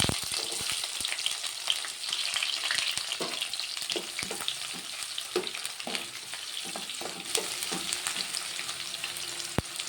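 Sliced onions fry in hot oil, giving a dense, even sizzle close up, punctuated by a few soft clinks and scrapes of a spoon against the pan, with no one speaking.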